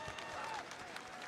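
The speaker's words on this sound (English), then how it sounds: "let's give one more round of applause for our best prop" Audience applause for the best prop winner at a gaming event stage, a continuous crowd clapping wash with a brief cheer rising through it, fairly distant and steady.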